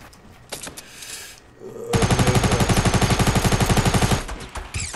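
A rapid, evenly spaced burst of submachine gun fire in Fortnite, loud and close, lasting about two seconds after a few scattered earlier shots, with no talk over it.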